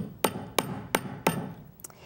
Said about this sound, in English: And I just slightly hammer this with my rawhide hammer.